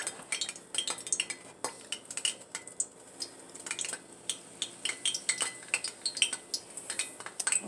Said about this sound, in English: You're going to take your spatula. We're going to get some out.